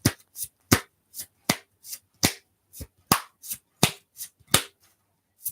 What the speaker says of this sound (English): We're going to pull out last 3 cards for you